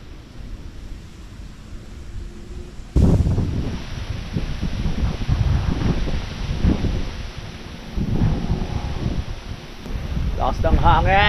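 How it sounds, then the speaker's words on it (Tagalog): Strong gusts buffet the microphone with a loud rushing roar that surges suddenly and stays heavy, with rustling underneath. "Lakas ng hangin."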